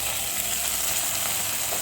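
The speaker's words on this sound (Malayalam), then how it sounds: "നമുക്ക് അണ്ടിപ്പരിപ്പ് മുന്തിരിങ്ങ ഫ്രൈ ചെയ്തത് ഇതിനകത്തോട്ട് ഒഴിച്ചു കൊടുക്കാം." Fried cashews and raisins are poured, still sizzling, into aval payasam. The result is a dense, even, close-up hiss of frying that holds steady for the whole brief moment.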